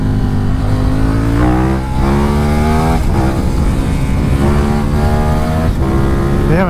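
A KTM 1290 Super Adventure S motorcycle engine revs hard and climbs through several gears, loud and close, each shift breaking the rising whine.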